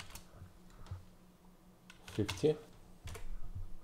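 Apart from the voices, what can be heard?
typing on a computer keyboard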